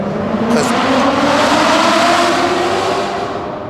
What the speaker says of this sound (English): Because that car just went by.